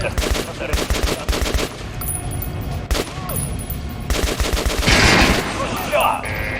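Rapid gunfire from weapons in the video game Metro: Last Light Redux, dense bursts of automatic shots in close succession with a few brief pauses and a louder, noisier stretch near the end.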